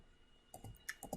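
Keys click on a computer keyboard while code is entered in R: a short, quiet burst of about five light taps after a moment of near silence.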